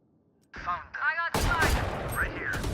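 A player's voice speaks briefly, then loud, dense automatic gunfire from the video game Valorant erupts and continues in rapid overlapping bursts.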